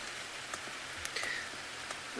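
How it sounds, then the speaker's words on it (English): Rain falls steadily during an evening game drive in African bush, a faint continuous patter with a few sharper drops tapping close by. "Boy, it's raining."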